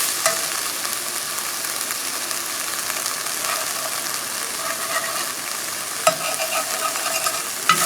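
Pieces of Spam sizzling and crackling in a hot skillet, a steady close frying hiss with occasional stirring clicks and scrapes, no voices.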